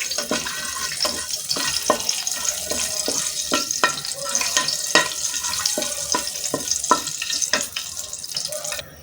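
Bay leaves, a piece of cinnamon and cloves fry in hot oil with a steady close sizzle, punctuated by a quick run of sharp clicks and taps from stirring.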